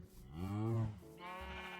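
Two sheep bleats in Minecraft, a long wavering bleat followed by a shorter second one, clear and close with no talking.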